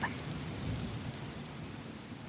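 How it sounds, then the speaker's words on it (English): Steady rain pouring down in a heavy rainstorm, a constant, even hiss with no breaks, heard alone at a moderate distance. "It's raining. It's a big rainstorm, and it's just about to stop."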